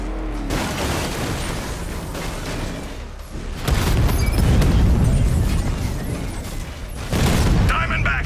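A heavy explosion strikes the Diamondback in the Batman: Arkham Knight video game, a deep booming blast with rumbling debris, loud and close amid continuous battle noise.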